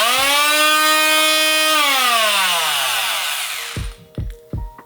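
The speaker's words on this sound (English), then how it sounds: "This is a multi-tool. I'm pretty sure it's called a multi-tool," A powered multi-tool used in a UK house renovation runs loud and close with a high buzzing whine that holds steady, then winds down in pitch and stops, followed by a few sharp knocks.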